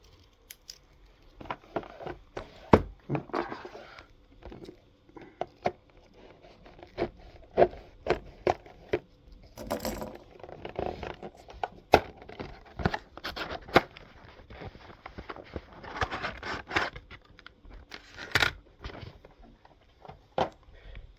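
A small knife slices open the seal on a CPU package, giving sharp, irregular cutting and scraping clicks, plastic crackles and rustles that come in bursts at close range, with quiet pauses between them.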